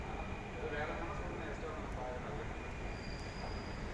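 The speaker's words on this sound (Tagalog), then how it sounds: "ayan na yung train, paparating na yung train." A train pulls into a Singapore station, a steady rumbling roar with rail noise rising as it draws near, heard under a person talking.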